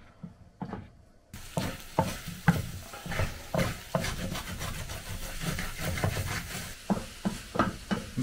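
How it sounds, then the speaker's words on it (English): Eggs for a mushroom omelette sizzle in a pan on a cooker while a utensil repeatedly stirs and scrapes, making uneven, close scraping strokes over a steady frying hiss. "I'm just going to throw the eggs in and sort of make an omelette, a mushroom omelette"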